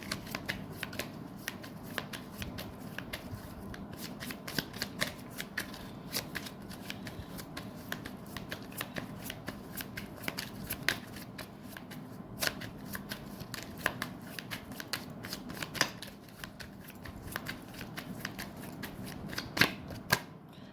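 A deck of tarot cards is shuffled by hand during a reading, producing a continuous stream of close, crisp riffling flicks and taps that run for about twenty seconds without talk.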